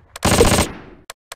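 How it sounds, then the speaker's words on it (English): A loud, close burst of rapid machine-gun fire from the war game Close Combat, a dense rattle lasting about half a second, then fading echo and two short isolated shots. "We're under heavy fire!"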